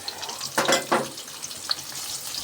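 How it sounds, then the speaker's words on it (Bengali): Onion hits hot oil with cardamom in a pan, giving a soft frying hiss with two quick bursts of louder sizzle and stirring near the middle. "কিছুক্ষণ নাড়ার পর পেঁয়াজটা দিয়ে দিলাম"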